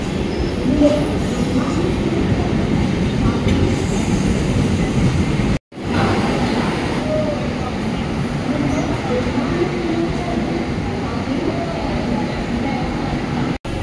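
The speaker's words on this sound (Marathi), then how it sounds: "तर आपली Saket superfast express platform number 3ला आलेली आहे." A Saket Superfast Express train stands at platform 3, its steady loud rumble and wheel noise filling the scene with faint voices beneath, broken by a brief dropout midway.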